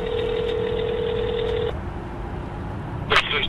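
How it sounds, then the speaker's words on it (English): A landline telephone call being dialed to a landlord's home, with a steady tone that stops partway, then a short burst of touch-tone dialing beeps near the end. "Fox 17 reached out to the landlord, David Turner, at his home."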